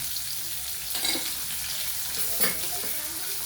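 Steady hiss of chopped onion frying in hot oil, with a couple of brief stirring scrapes partway through.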